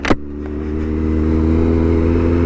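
A 2017 Kawasaki Z900 four-cylinder 948cc motorcycle engine hums steadily and loudly while riding, a smooth sustained drone after a brief sharp knock at the start.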